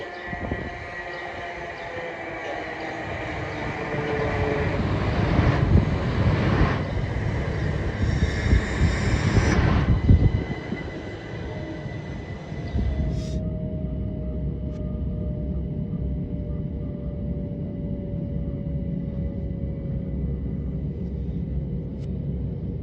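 A train running on a Sussex branch line to Seaford, a steady rumble and rattle throughout with louder surges of wheel and track noise early on, then a smoother running drone with a long whining tone.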